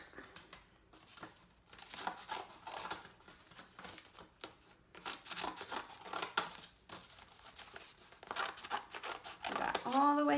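Scissors snip through paper in a lantern craft, a run of short crisp cuts and crinkles moving down a row, close and moderately loud, with a voice talking over much of it.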